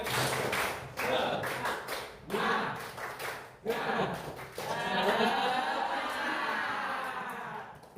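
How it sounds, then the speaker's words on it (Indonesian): Group clapping chant led in a classroom or training session, with bursts of rhythmic claps and thumps mixed with loud voices chanting and calling together, close and lively throughout. "Ayo kita bareng-bareng tepuk semangat"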